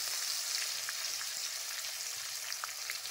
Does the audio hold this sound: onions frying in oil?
yes